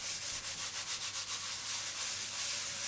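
A shellac-coated guitar body being French polished, the rubber dragging and gripping on the wood in a steady series of close, rhythmic rubbing strokes, with no voices.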